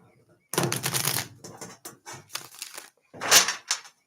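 Playing cards riffle and snap in several quick bursts separated by short pauses, close to the microphone.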